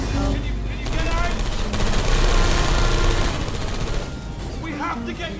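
Rapid bursts of gunfire in Portal 2 crackle continuously over a loud, dense mix of engine rumble and action noise.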